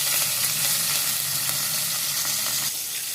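Curry leaves drop into hot oil already holding mustard seeds, urad dal and asafoetida, giving a loud, dense, continuous sizzle and crackle up close with no talking.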